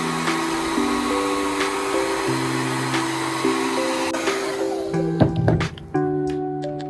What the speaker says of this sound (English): And then go in with your blow dryer and